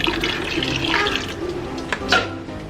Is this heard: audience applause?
no